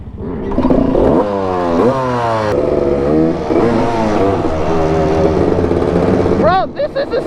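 A three-wheeler ATV engine starting and running, a loud close motor that revs up and down in rising and falling sweeps before dropping briefly near the end.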